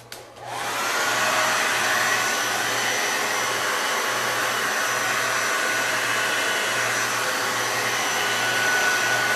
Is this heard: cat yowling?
no